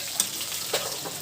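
Meat frying in a pan at home, a steady soft sizzle with a couple of brief clinks or stirs, close and alone without talk.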